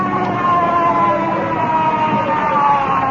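An ambulance siren wails steadily throughout, its tone holding at a constant moderate level against a busy background rumble.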